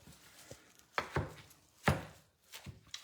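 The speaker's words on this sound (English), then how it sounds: "So Mark's chopping up cilantro." A knife chops fresh cilantro on a cutting board for queso dip, a few sharp irregular thunks close by with short gaps between them.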